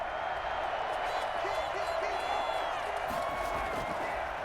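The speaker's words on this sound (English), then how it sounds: "That just means this crowd's going to get even louder." A stadium crowd roars in the Madden NFL football video game, a steady wash of cheering that swells slightly, heard under a commentator's voice.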